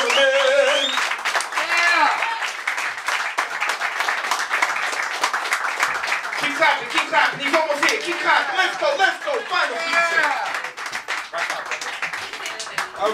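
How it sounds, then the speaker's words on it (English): An audience at a spoken-word poetry show claps for the final performer, a loud, continuous patter of many hands that goes on throughout while a voice talks over it and a few cheers rise up. "Keep clapping, he's almost here. Keep clapping, let's go,"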